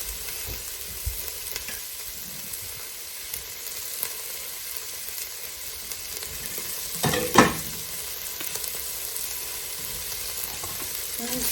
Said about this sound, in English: I'm going to stir that around.